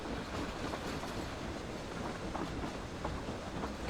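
Train ride in the video game Aery: Sky Castle: a faint, steady rumble of rolling rail carriages with light clickety-clack, continuous and even, with no voices.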